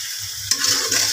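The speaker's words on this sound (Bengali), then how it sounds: "এবার ভালো করে নেড়ে দেবো" Food frying in a cooking pan being stirred, a short sizzling scrape with a soft hiss that brightens and grows louder about halfway through, heard alone without talk.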